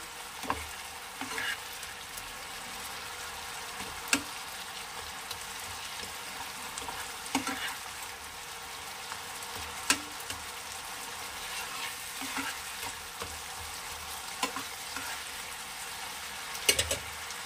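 Spices and tomato sauté in a pan for a Bengali Bhola fish curry, a soft continuous sizzle with regular spatula taps and scrapes spaced through, no talk.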